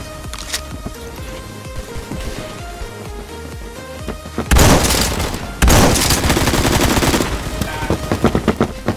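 Automatic gunfire rattles in Roblox Phantom Forces, scattered shots at first, then two dense, loud bursts of rapid fire that carry on to the end.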